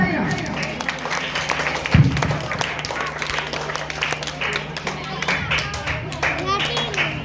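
Scattered, fairly loud clapping from an audience at an Ambedkar Jayanti talent award ceremony in Chinveriya, continuing under a speaker's voice and a low background hum.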